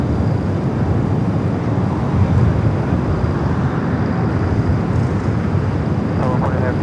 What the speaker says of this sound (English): We do have Finnair taking off there on the north